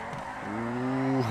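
A car drifting down a mountain road in the video game GTA 5, tires letting out a sustained, rising squeal that holds for most of a second before cutting off, loud and close.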